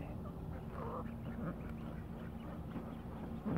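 Ducks quack softly amid a barnyard flock of ducks, ducklings and chicks, with faint, scattered calls under a steady low background.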